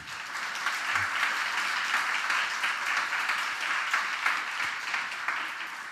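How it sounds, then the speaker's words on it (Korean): A church congregation gives a round of thankful applause: continuous, full clapping from many people, steady and moderately loud for about six seconds without speech. "우리 하나님께 한번 감사의 박수 한번 보내드리면 어떨까요?"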